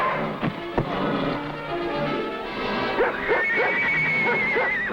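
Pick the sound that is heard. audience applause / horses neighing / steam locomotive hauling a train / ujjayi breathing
horses neighing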